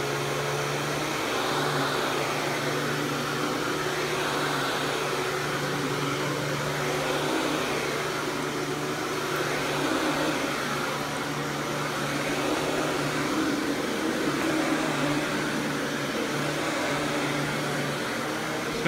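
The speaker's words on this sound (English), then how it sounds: "This vacuum is very quiet." A Panasonic Jet Flo MC-6255 upright vacuum runs steadily with a continuous, fairly quiet motor whir and airflow hiss, unchanging throughout and alone without talk.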